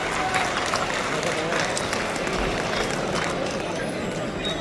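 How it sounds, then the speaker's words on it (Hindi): An audience at a gathering applauds to welcome a minister, a steady, dense clapping that continues throughout at moderate volume with a voice talking over it. "जोरदार माननीय मंत्री जी का स्वागत करें तालियों से"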